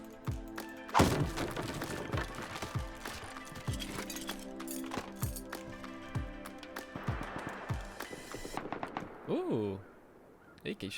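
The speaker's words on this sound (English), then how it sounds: "Ooh, AK shots for me." Rifle shots from an AK in the survival game Rust, a handful of sharp thuds scattered across the clip amid game ambience, fairly quiet and mid-distance with a person speaking over parts of it.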